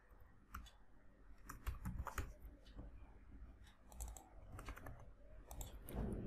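Keys clatter on a computer keyboard in irregular bursts of close, crisp taps with brief pauses, recorded quietly with no voices.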